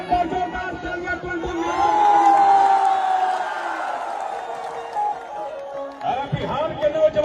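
A large crowd at a Bhojpuri stage show in Darbhanga roars and cheers over clapping, a loud sustained wave of voices with whoops that swells, then eases before a fresh burst near the end.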